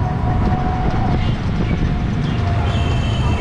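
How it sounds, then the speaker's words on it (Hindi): A Delhi Metro train at GTB Nagar station rumbles loudly and steadily, a dense, continuous roar of rolling wheels and carriage noise close by. "ये अपन आ चुके हैं जीटीबी नगर मेट्रो स्टेशन अब यहाँ से मेट्रो का सफ़र करेंगे"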